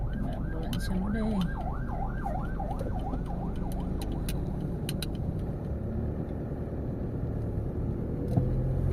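An ambulance siren wails on a street during a school pickup, its rising and falling tone clear for a few seconds and then fading under steady road traffic noise as it passes.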